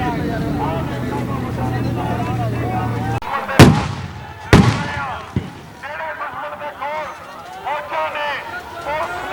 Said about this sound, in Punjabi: ਪੁਲਿਸ ਪੰਜਾਬ ਦੇ ਇਲਾਕੇ 'ਚ ਗੋਲਾਬਾਰੀ ਕਰ ਰਹੀ ਹੈ